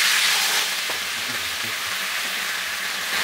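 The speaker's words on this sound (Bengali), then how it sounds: "এই একটু ভেজেই সরিষাগুলো ফুটা শুরু হলে আমি টমেটোগুলো দিয়ে দিব।" Black mustard seeds and tomatoes frying in oil, heard as a loud, continuous close sizzle with faint scattered pops and light stirring, no talking.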